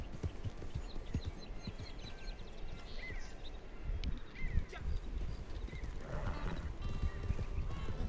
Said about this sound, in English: You gotta treat your horse like a friend.